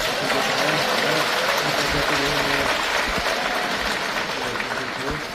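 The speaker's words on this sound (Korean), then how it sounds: "저와 같은 생각이 있으면 박수 한번 쳐주시기 바랍니다" Audience applause at a Korean provincial speech event, a steady dense wash of clapping filling the whole stretch at moderate loudness, with speech-like murmur mixed in.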